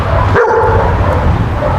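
A dog on a training walk across a street barks loudly and close, once or twice, over steady outdoor background noise.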